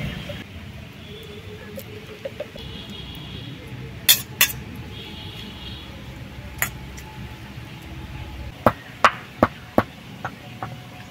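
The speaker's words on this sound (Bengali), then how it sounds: "একটা এলাচ গুঁড়ো করে দিচ্ছি" A single cardamom pod is crushed for a dab chingri dish, giving sparse sharp cracks and taps that end in a quick run of crisp clicks over a quiet kitchen background.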